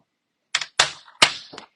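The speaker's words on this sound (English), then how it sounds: "grab your paper trimmer" Paper trimmer handled while making an angled gate-fold card: four sharp, close clacks and slides of plastic and paper, each fading quickly, with no talk.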